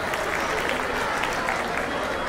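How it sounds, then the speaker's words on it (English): Steady, dense applause from an audience at a celebration, clapping continuously and close for the whole short stretch with a crowd murmur beneath. "let's give you a round of applause to Kalpesh Brasha."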